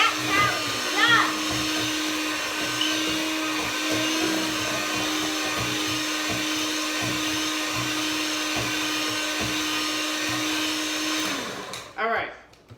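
An electric hand mixer whirs steadily through Grinch cupcake batter in a home kitchen, a loud continuous whine that stops near the end, with a voice briefly heard over it.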